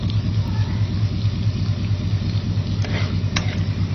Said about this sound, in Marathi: आता इथे पाहू शकता कांद्याचा रंग बदलेपर्यंत आपण तो छान परतून घ्यायचा आहे व्यवस्थित